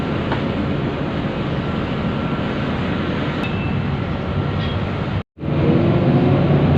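Inside a moving air-conditioned city bus in Bangkok, a shuttle run from Hua Lamphong railway station, with a steady, loud engine and road rumble that drops out for a moment before resuming.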